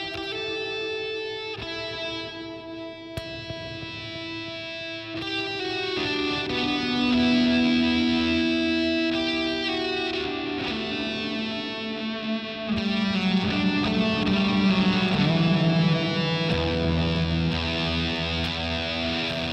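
Electric guitar played through a distortion pedal, sustained chords and riffs with a thick, saturated, buzzing tone, loud and continuous with shifting notes throughout.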